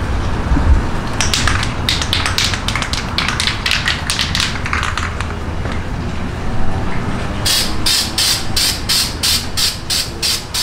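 Spray paint hisses from an aerosol can onto a plastic pumpkin pail outdoors, in a run of short repeated bursts, then a second series of sharper, evenly spaced sprays, fairly close, over steady background noise.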